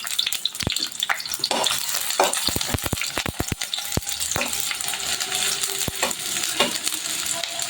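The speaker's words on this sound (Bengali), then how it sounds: "এখন একটু পেঁয়াজ কুচি দিয়ে দিলাম" Chopped onion hits hot oil in a wok and fries with a steady sizzle, punctuated by repeated sharp scrapes and clacks of a spatula stirring, close and fairly loud, with no talking.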